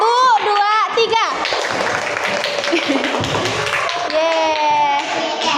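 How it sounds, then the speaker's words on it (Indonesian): A class of children clapping their hands together in a classroom, with scattered sharp claps and taps mixed with loud kids' voices and chatter. "Coba tepuk tangan untuk kita semua dulu."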